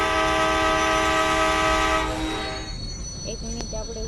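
A fast-running train passes with a loud sustained horn and rumbling wheels. The horn blares over the steady roar for about two seconds, then cuts off and the clatter fades as the train pulls away.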